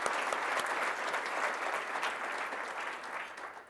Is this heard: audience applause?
yes